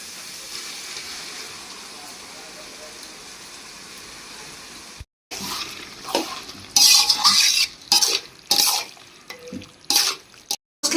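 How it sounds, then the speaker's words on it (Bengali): Marinated chicken is tipped into hot frying spices in a pan, bringing a sudden sizzle followed by bursts of clattering stirring and scraping of a utensil against the pan, close and loud after a quiet low simmer. "এবার ম্যারিনেট করা মাংসটা এর মধ্যে ঢেলে দিচ্ছি।"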